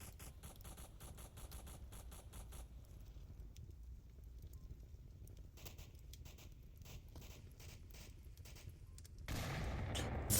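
Bursts of gunfire in the VR shooter game Onward during a competitive match, with faint, rapid clustered shots at a distance and a louder burst near the end.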